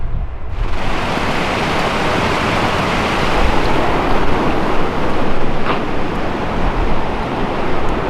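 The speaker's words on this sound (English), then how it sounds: "it looks so nice and it's eye level with the waterfall" The waterfall at the Grand Canyon of the Yellowstone gives off a loud, constant broadband roar from a viewpoint at eye level with the falls, steady throughout and swelling in after a brief quieter start, with no voices.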